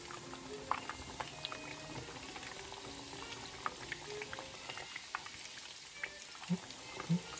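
A taco shell frying in a pan of hot oil for ground beef tacos: steady bubbling sizzle with scattered small pops and crackles throughout, close and moderately loud, no voices.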